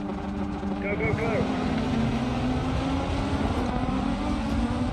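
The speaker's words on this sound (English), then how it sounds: "I can hear their engine very loudly" Rival rallycross cars in Dirt 4 roar together on the starting grid, a dense, steady, loud engine drone that stays constant throughout, with brief speech over it.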